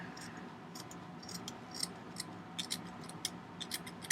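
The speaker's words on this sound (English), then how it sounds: "I take my scissors and insert them into the center of that, and then cut that edge" Scissors snipping the yarn edges of a handmade knitted pom-pom: quiet, irregular small clicks and snips at close range over a low room hum, with no talking.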